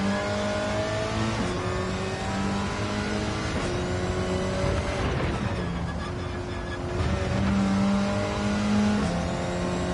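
A race car engine in a racing video game revs and shifts continuously through gears, steady loud droning with rising and falling pitch over ten seconds, no talk.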